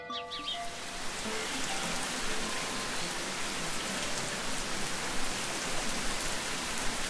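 Steady rain hisses and patters evenly on a surface, close and continuous, with a few faint tones fading out at the very start.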